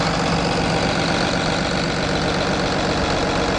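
A Cummins ISB 6.7 liter diesel engine in a 2009 Blue Bird Vision school bus idles close by, a steady low rumble with even mechanical clatter throughout and no talk.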